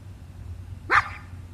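A pet dog gives a single sharp, loud bark indoors in the middle of a home crochet session, standing out briefly against a low steady hum.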